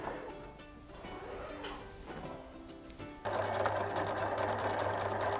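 A sewing machine hems upcycled woollen jumper fabric, going slowly over a thick side seam. Quiet room sound with pigeons cooing comes first, then the machine starts abruptly partway through as a steady, close hum.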